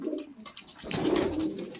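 Punjabi Malwai pigeons coo in a soft, low rolling burst that swells in the second half, close by and alone, with no voices.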